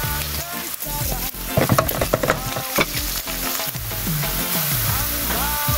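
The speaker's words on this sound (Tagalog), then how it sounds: "Pa-brownan mo lalo na yung bawang para masarap siya, maamoy." Garlic browning in a hot pan for a beef soup, a loud, close sizzle and crackle with frequent stirring scrapes and popping bursts throughout.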